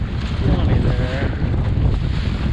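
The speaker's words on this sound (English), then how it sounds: "Boy, there's some pretty good sized sets of waves too." Wind buffeting the microphone and waves washing against a sailboat hull while solo sailing on chilly Lake Erie, a loud steady roar with rushing water throughout.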